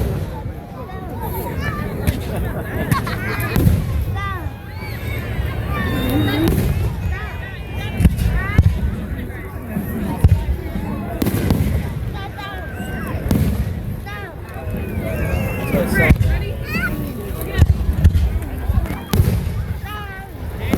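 Fireworks display at Skydive Chicago bangs and crackles repeatedly at a moderate distance, with excited voices and crowd chatter mixed throughout.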